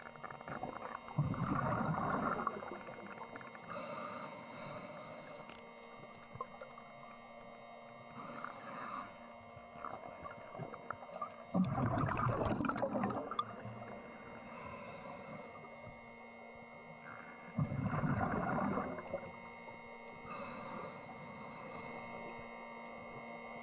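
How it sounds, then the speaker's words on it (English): An underwater diver propulsion scooter motor runs during scuba spearfishing for invasive lionfish off Panama, a low droning hum with recurring louder surges of bubbling, churning noise every several seconds, fairly faint and muffled. "the scooter sounds are not the most pleasant thing to listen to"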